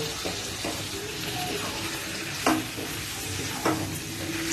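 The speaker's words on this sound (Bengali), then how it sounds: "এটাও খুব ভালো করে আমরা ভেজে নেব।" Vegetables with tomato for chowmein sizzle in a pan close by while a utensil scrapes and stirs them in a few distinct strokes over the steady frying hiss.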